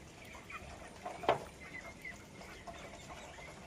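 Domestic ducks on a small farm, gathered in water after feeding, one with a leg problem after duck plague vaccination; one short, sharp call stands out over faint, scattered fowl noises.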